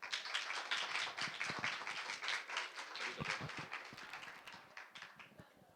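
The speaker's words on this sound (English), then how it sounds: "So I'd like you all to welcome tonight" Audience applause at an entrepreneurial social evening in Manchester welcomes a speaker: dense, steady clapping from a roomful of people that holds for several seconds before slowly thinning out.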